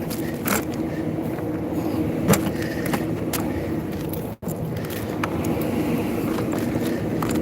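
A car with an unbalanced wheel drones along with a constant low rumble and shaking vibration inside the cabin, broken by one short dropout partway through.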